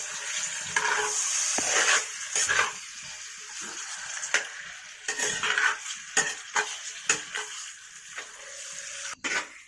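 Pork frying in a pan for ularthiyathu, stirred repeatedly with scraping, clinking utensil strokes over a soft sizzle, irregular and close, with no voices.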